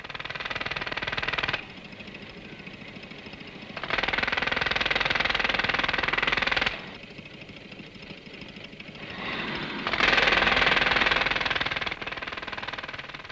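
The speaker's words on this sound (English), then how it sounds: "A larger version, producing 100 cubic feet of air, is sufficient to power 2 medium-duty drills and is used for major road work." A Series 2 Land Rover powering a 100-cubic-foot air compressor runs two medium-duty pneumatic road drills on major road works, loud hammering bursts alternating with quieter engine stretches in a steady, repeating cycle.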